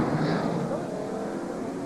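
A stock car at the 1993 Mello Yello 500 rolls back across the track after spinning, a steady broad engine roar with crowd and track noise blended in, loud and continuous for a couple of seconds.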